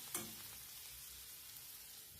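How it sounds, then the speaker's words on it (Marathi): Red chili powder sizzling as it is sautéed in hot oil for a spiced okra dish, a steady soft frying hiss with a brief sharper crackle near the start. "लाल तिखट पण आपल्याला तेलावर छान परतून घ्यायचे"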